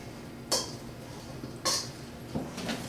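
Broccoflower and garlic are tossed in a dish, giving three separate clinking knocks of utensil against dish spaced over a few seconds, with quiet gaps between them.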